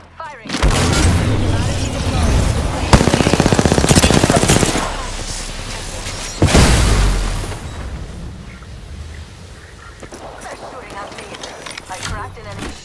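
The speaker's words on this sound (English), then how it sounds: "Getting shot at." Gunfire in Apex Legends: loud bursts of automatic fire and impacts in two heavy stretches, with game effects and a voice over the action.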